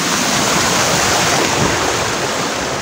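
A small stream flows with a steady, close rushing wash of water that stays even and loud throughout, with no voices.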